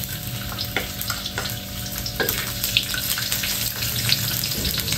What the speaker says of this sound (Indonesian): Sekarang saya nak goreng dahulu ikan bilis ni.